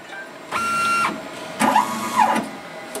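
A Mach3-controlled CNC lathe jogs its axis in short motorized bursts, each a whining stepper-drive tone that ramps up and back down, three moves in quick succession over a steady hum.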